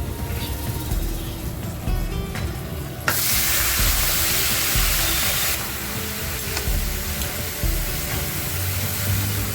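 Chopped bottle gourd hitting a hot oiled pan with green chili and grated ginger, bursting into a loud, steady sizzle that hisses close up and then eases somewhat as it is stirred.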